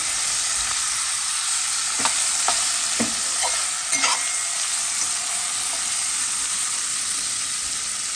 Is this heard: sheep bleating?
no